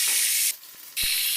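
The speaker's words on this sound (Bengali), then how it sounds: "তারপর মাছটাকে উল্টে পাল্টে লাল লাল করে ভেজে নেব।" Snakehead fish, salted and rubbed with turmeric, frying in hot mustard oil gives a loud steady sizzle that drops away briefly in the middle, broken by a soft low thump, before the bright hiss returns just as strong.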